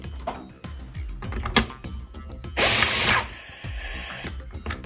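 A pneumatic direct-driven LTP tightening tool tightening a hard joint: rattling mechanical clicks and knocks, then a loud, brief burst of air-driven whirring before cutting off, close by, without speech.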